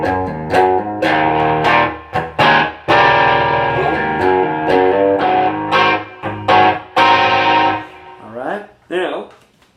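An EVH Wolfgang electric guitar on its bridge pickup, played through an EVH LBX2 amp with a Timmy overdrive and MXR reverb, rings out loud, driven chords and picked notes in a steady rhythm, sustaining between strikes and heard alone.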